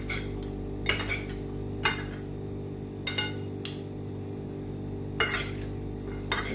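A spoon clinks and taps against a bowl while fruit salad is mixed with sugar, with sharp irregular knocks over a low background hum and no talking.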